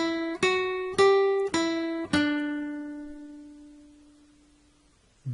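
Four plucked guitar notes on the first string, the opening of Baa Baa Black Sheep, each sharply attacked and ringing clearly, with the last note sustaining and fading slowly before a brief final pluck.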